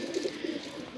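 Pigeons cooing inside a cage, soft low throaty coos repeating in short bursts, fairly faint and close, with no voices.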